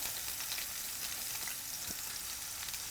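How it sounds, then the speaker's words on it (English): Steak sizzles on high heat in a hot pan, a steady close hiss of frying throughout with faint crackles and no talking. "You want to hear the sizzle."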